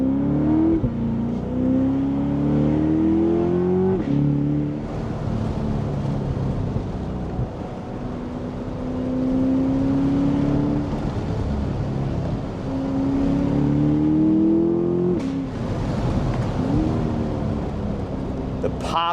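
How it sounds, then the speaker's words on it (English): A Chevrolet Corvette C8 with a 6.2-liter V8 accelerating hard in track mode with manual paddle shifts, engine note climbing repeatedly through the gears with sharp breaks between shifts, loud and close, with wind noise over it. "Pops and the exhaust sound fantastic."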